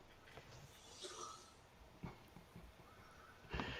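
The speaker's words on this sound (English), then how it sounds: "I'm particularly impressed with the donkey sound." A donkey bray sound effect gives several rough, honking bursts, louder toward the end, against a noisy background.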